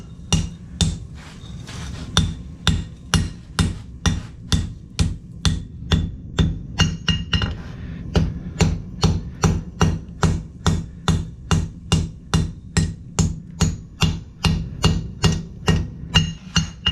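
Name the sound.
blacksmith hammering hot metal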